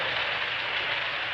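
Toy electric train running in a 1930s home, a steady broadband rumbling whir with faint rhythmic clatter, close and continuous with no talk over it.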